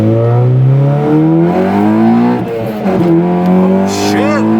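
A Honda Civic Si with a Skunk2 downpipe and a fully catless 3-inch exhaust accelerates hard from inside the cabin, its loud raspy engine note climbing through the revs, dipping at a gear change, then rising again.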